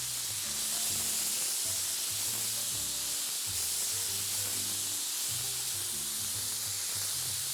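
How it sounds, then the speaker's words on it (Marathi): Chicken frying on a tawa over a medium flame, making a steady, close sizzle with a dense hiss throughout and a faint low tonal hum underneath. "हे आपल्याला आता 5 मिनिटं फ्राय करून घ्यायचं आहे।"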